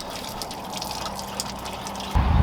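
Transmission fluid from a Ford Galaxie drains freely with no drain pan, a close, continuous splashing trickle that swells into a heavier gush at the end.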